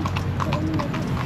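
A horse's hooves clip-clop steadily on city pavement while pulling a cart, an even, fairly close rhythm of hollow knocks over background street noise.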